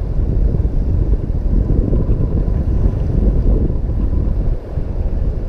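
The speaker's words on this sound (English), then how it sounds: "Feels like the wind's starting to die down a little bit too." Steady wind buffets the microphone on the Ohio River while bass fishing from a boat, a loud continuous low rumble with faint water sounds and a brief dip near the end.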